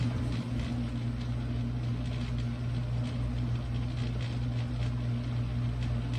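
A dishwasher that is not spraying water runs a repair test with the door locked. It sends out a steady, close mechanical hum with a low motor drone, and no voices are heard.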